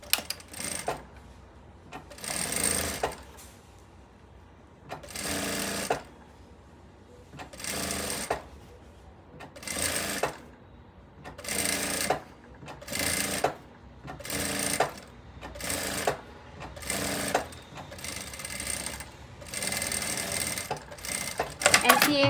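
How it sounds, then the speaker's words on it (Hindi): Sewing machine stitching over fusing tape on a pleated tube blouse, running in about a dozen short rattling bursts separated by quiet pauses, fairly close. "फ्यूजिंग टेप के ऊपर ही हमें स्टिच लगानी है।"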